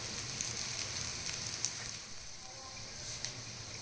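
Veg cutlets shallow-fry in a little oil in a pan, giving a soft, steady sizzling hiss with scattered faint pops and crackles, quiet and close, with no talking.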